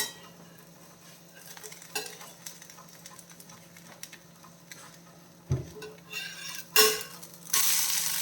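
An oats dosa fries in a pan with a soft, steady sizzle, light scraping and utensil clinks, and a louder clatter near the end as it is turned over.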